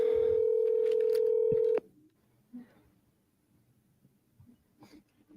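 A telephone dialing tone sounds loud and steady for nearly two seconds, then cuts off abruptly, leaving faint background noise with small scattered sounds.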